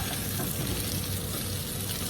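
Chicken roasting dry in a pan over a high flame, a steady dense sizzle and fry crackle running unbroken and fairly close with no voices.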